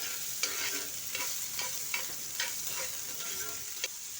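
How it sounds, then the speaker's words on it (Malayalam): Chopped onion sizzles steadily in a hot oiled pan, with a spatula stroke roughly every half second scraping through it at close range; no voices. "എണ്ണയൊഴിച്ച് ചൂടായ പാനിലേക്ക് ഒരു വലിയ ഉള്ളി അരിഞ്ഞതിടാം"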